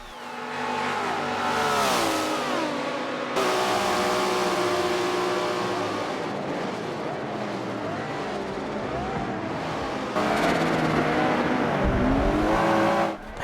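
Race car engines in the Forza racing game roar continuously, with a Ferrari among the cars pulling ahead; loud whining revs climb and drop through gear shifts, with other cars rushing past close by and no talking.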